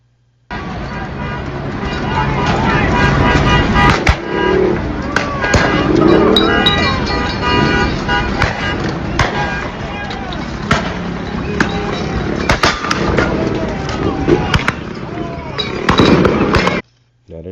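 Non-lethal rounds fired during a street riot in Los Angeles, repeated sharp pops and bangs scattered over a constant loud roar of crowd and traffic noise, some shots close and others further off.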